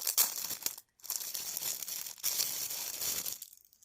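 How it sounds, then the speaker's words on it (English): Crinkling plastic bag being opened to unwrap a newly delivered item, a dense rustle and crackle with one brief pause midway, close and fairly loud before it drops away near the end. "everything, of course, is in a plastic bag."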